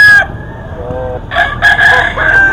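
A gamefowl rooster of the Tornado Hatch bloodline crows nearby, loud and clear, with a short call followed by a longer drawn-out crow.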